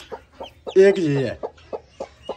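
A hen with newly hatched chicks gives a run of soft, evenly spaced clucks and one longer, drawn-out call in the middle, fairly close, while a person speaks briefly.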